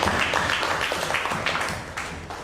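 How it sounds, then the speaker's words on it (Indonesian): Applause from an audience at an artificial intelligence ethics training session: dense, steady clapping for a few seconds, fairly quiet, with no talk over it. "Boleh tepuk tangan, karena cuma dia jawabnya."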